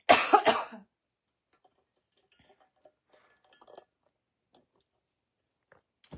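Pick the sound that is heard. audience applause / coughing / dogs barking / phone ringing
coughing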